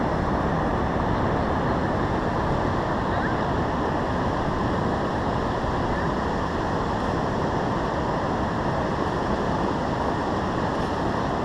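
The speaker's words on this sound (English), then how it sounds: "Sound of the surf, hopefully it'll warm you up just a little bit." Steady ocean surf washing in at a beach on a cold day, a continuous broadband roar of breaking waves with wind, loud and unbroken throughout, no voices.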